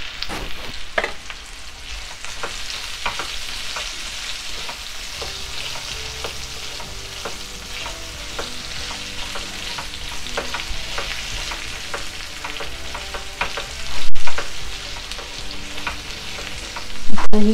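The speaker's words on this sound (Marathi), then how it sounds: "कैरी 1-2 मिनिटं परतवल्यानंतर आता आपण त्यामध्ये हळद टाकणार आहोत" Raw mango pieces sauté in a hot pan with turmeric and salt while a mango pickle (methamba) is prepared. A steady, close sizzle and crackle runs throughout, with occasional stirring scrapes and a couple of louder clatters near the end.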